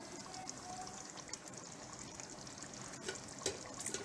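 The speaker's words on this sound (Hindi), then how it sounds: "अब हम इसमें डालेंगे इमली का पल्प।" Tamarind pulp pours into a coconut fish curry, a soft steady liquid trickle with a few faint splashes and clinks near the end, quiet and close with no talking.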